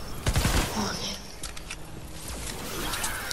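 Player's gun firing in a survival shooter game, a short burst of sharp shots up front over chaotic game noise, with a voice talking over it.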